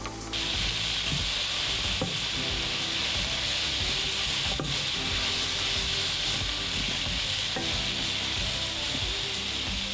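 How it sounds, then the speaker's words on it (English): Peppers and onions fry loudly in a wok, with a steady, dense sizzle and occasional scraping clatter from a utensil stirring the vegetables, close up and without talk. "Peppers and onions are in the pan."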